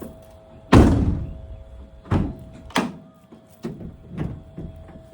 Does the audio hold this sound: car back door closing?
yes